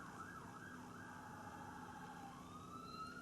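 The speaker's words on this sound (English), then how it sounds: "Now that the siren's gone." A siren wails steadily at a distance, its pitch sliding up and down, with a low constant background hum and no one talking.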